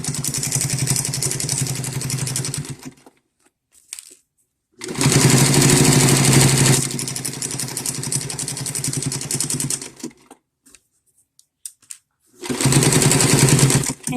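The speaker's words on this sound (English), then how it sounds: "just sew with my straight stitch, pulling my pins out as I go." A sewing machine runs a straight stitch through men's shirt cuffs in three loud, close bursts of steady motor hum. Near-silent pauses come between the runs.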